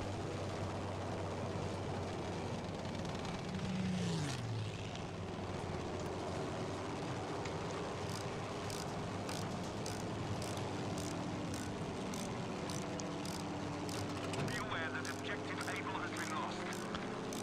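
Aircraft engines drone steadily through a flight combat video game, a continuous propeller hum with a brief passing swoosh, layered with game sounds and crackling.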